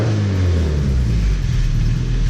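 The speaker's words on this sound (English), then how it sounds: "Wish I didn't have that nasty freaking exhaust leak right now." A Datsun 510 engine with an exhaust leak idles and revs nearby, giving a loud, low, throbbing rumble that swells briefly and then settles.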